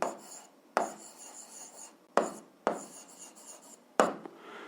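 A pen writes algebra on paper, close and faint, with several short scratchy strokes separated by taps and brief pauses, and no talk.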